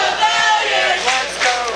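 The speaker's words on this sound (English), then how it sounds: "Crowd starting to get behind Lee Valiant" A wrestling crowd at a CWF Mid-Atlantic match rallies behind Lee Valiant against Zane Dawson, a dense, steady roar of cheering and yelling that fills the hall.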